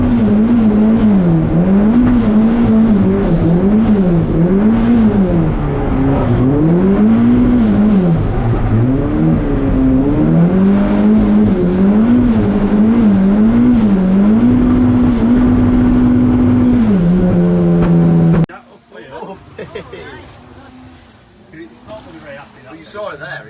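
Turbocharged Mazda MX-5 drift car heard from an onboard camera: a loud engine revs and wails up and down in repeated swells while drifting, a voice talks over it, then it cuts abruptly to quieter sound.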